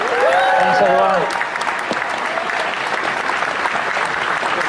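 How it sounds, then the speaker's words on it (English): Comic con panel audience applauding a Star Wars costume group, with a voice talking over the clapping at the start before a sustained crowd applause continues alone. "They deserve a round of applause."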